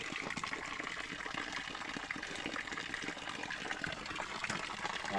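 Strongly flowing water in a rural stream strewn with logs and branches: a loud, continuous close-up rush and gurgle with no break, heard alone without talking.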